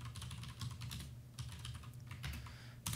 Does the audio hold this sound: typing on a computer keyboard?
yes